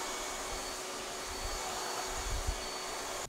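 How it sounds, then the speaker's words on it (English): A vacuum cleaner draws drywall dust off a freshly skim-coated wall surface, a steady broadband whine held close and loud throughout with no talking. "we're going to vacuum it off."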